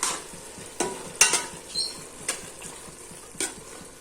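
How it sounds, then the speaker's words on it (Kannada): Khoa being stirred into carrot halwa in a pan, with repeated scraping strokes and spoon knocks over a soft, low sizzle, close up and with no voices. "ಕೋವಾ ಹಾಕಿ ಚೆನ್ನಾಗಿ ಮಿಕ್ಸ್ ಮಾಡಬೇಕು"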